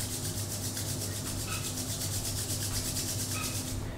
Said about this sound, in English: now join your hands, rub them